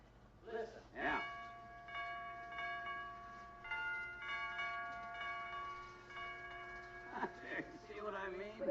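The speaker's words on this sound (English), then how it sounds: "what a sensitive door chime. Dr. Gamble presses it and it plays the funeral march" A door chime plays the funeral march as a series of sustained, ringing bell-like tones held at a steady pitch, faint, with voices murmuring at the start and end.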